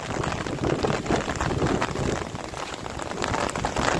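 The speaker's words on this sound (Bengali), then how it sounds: "বৃষ্টি এসে গেছে" Steady, heavy rain pattering on surfaces nearby, a dense continuous hiss with no voices.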